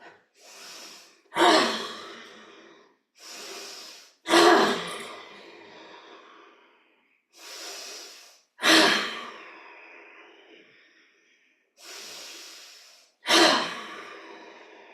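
Deep breathing during a yoga pose: slow, audible inhales and heavier exhales alternate in a steady rhythm, close to the ear, repeated about five times with short pauses between.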